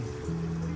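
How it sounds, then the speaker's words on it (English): Water poured steadily onto dry garden soil while planting seeds, a soft, continuous trickling and filling sound, close and quiet with no talk. "Let's water a little bit more. This soil was real dry."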